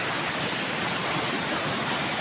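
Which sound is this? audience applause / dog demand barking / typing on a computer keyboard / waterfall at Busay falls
waterfall at Busay falls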